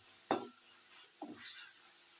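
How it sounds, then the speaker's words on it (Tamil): Ginger and garlic sauté in a pan, with two distinct spatula scrapes against the metal over a soft, quiet sizzle, heard close with no one speaking. "இஞ்சி பூண்டு நல்லா பச்சை வாசம் போகிற வரைக்கும் நல்லா வணக்கணுங்க"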